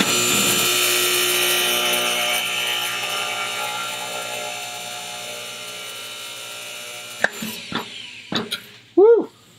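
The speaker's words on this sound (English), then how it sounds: "the rifling button made it through" A rifling button is pushed through a gun barrel on a press, a loud steady grinding, whirring mechanical strain that fades out, followed by a few sharp knocks and clanks and a short squeak.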